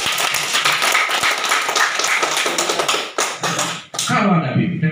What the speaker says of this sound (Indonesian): Ada BIMTEK. Tepuk tangan.